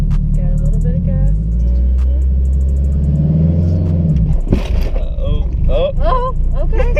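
Turbocharged Acura RSX with a manual gearbox pulls away roughly on the clutch: a steady low engine rumble, then a sudden jolt near the end, with people talking over and after it.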